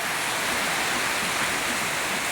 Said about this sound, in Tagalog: Ito naman bagyo guys. Lagi ng tagbagyo.